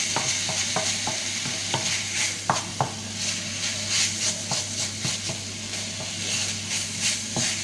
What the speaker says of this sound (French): Là, je vais rajouter un tout petit peu d'huile d'olive.